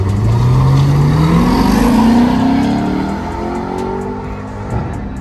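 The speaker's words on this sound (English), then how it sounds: "That damn Audi be taking off," Audi car accelerating hard at a car meet in Colorado, its engine note climbing steadily as it pulls away, loud and close at first and then fading slightly into the distance.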